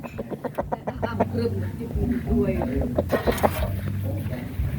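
Burmese fighting chickens cluck and chatter close by while people talk over them.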